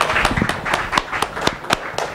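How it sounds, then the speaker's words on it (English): A small audience claps for a workshop presenter at a TEDx design thinking master class, giving sparse, uneven claps spaced about a quarter second apart, close and moderately loud with no voices. "So big hand of applause for Prerak Mehta"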